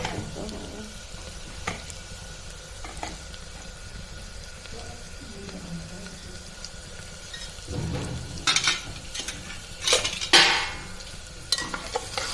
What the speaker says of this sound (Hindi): प्याज के साथ ये भून जाएंगे